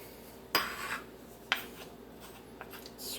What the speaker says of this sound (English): Scrape that, that's sticking to the spoon, scrape that off